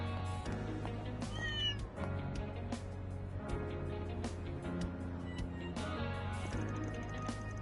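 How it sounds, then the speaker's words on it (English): Repeated meowing of a cat in a video game, several clear rising and falling cries near and loud over a busy background of game music and effects. "Chasing a cat, that's normal."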